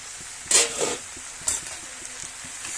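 Leafy greens cook in a pan over a high flame, a soft constant sizzle broken by two brief, louder bursts of stirring and hissing close by.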